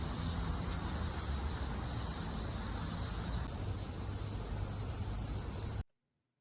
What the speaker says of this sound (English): You hear those cicadas going.